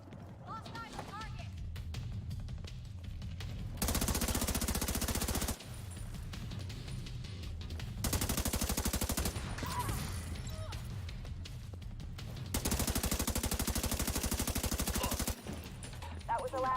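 A turret machine gun on a vehicle in a driving video game fires in three long rapid bursts, each a couple of seconds, loud and close, separated by engine rumble and brief talk.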